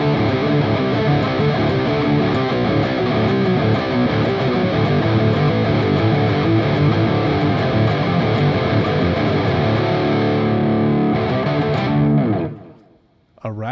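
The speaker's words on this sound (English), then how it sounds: "I have too much distortion for you guys to really hear the true notes" Electric guitar played through heavy distortion, a loud, dense, sustained wall of driven chords that runs continuously for about twelve seconds and then cuts off abruptly.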